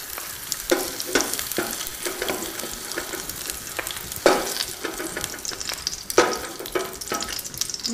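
Red onion and aromatics fry in hot oil, a loud, continuous crackling sizzle punctuated by periodic stirring scrapes and bursts, close up with no talking.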